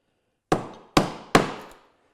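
A steel chisel chops into wood three times while cutting a dovetail, each blow a sharp, close, loud crack with a brief ringing decay, spaced about half a second apart with no talk.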